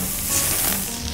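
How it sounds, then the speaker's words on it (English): A homemade cheeseburger patty hisses and sizzles steadily in a hot pan as it is flipped, a dense, close frying crackle with no voices. "Then, we'll flip our burger."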